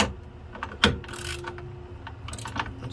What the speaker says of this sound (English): This one here, you gotta use a wrench for it because you can't get a socket on it.